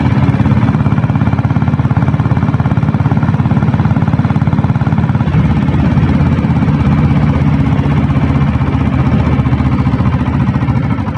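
A Royal Enfield Bullet motorcycle with a diesel engine and self start, running steadily with a loud, even, rhythmic chugging idle and no talk over it.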